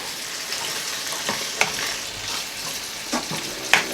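Chicken fajita casserole mixture stirred in a pan, a continuous soft scraping and sizzling hiss with a few brief clinks of the spoon against the pan, moderately quiet and without talk.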